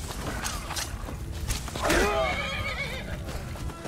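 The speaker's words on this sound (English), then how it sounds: "Horse is attacking." A horse in Skyrim lets out a sharp, loud whinny in the middle, amid clip-clop hooves and game noise, with someone talking over it.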